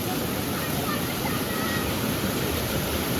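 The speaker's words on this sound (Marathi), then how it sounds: "या बिल्डिंग मध्ये पण पाणी घुसलंय पूर्णपणे म्हणजे तुम्ही विचार करा पाण्याला किती फ्लो आहे" Floodwater surges through the inside of a building during a 2024 flood in Karjat, a loud, dense, unbroken rush of water with no clear voices.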